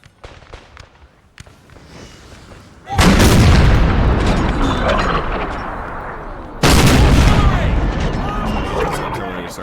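Artillery fires in Napoleon Total War with a Civil War mod, on the Antietam battlefield at Burnside Bridge: two loud, close cannon blasts, each followed by a long rumbling decay, after a quieter opening.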